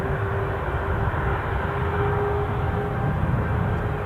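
Air France airliner starting up on the tarmac at Newcastle airport, a steady broadband jet roar with a faint constant whine, moderately loud and unbroken throughout, no voices.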